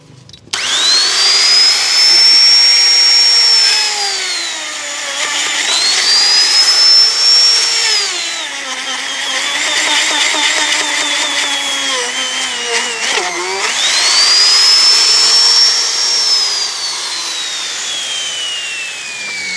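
A power drill whines through several long bursts during a tree-grafting job, its pitch sweeping up and down as it bores in, loud and close with only faint background noise.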